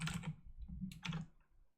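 Short bursts of keystrokes on a computer keyboard, close and soft clicks in two quick clusters separated by a brief pause, then fading out.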